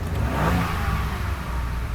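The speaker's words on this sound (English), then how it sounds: "You can't beat an EcoBoost and the sound that it makes." Ford Bronco EcoBoost engine revving from the factory exhaust, a steady loud mid-pitched roar with a brief swell early on, continuous for about two seconds with no talk over it.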